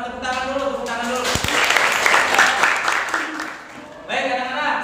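Classroom applause for pupils during a rhythmic movement lesson, a burst of clapping that swells in the middle, heard over and between a teacher's voice.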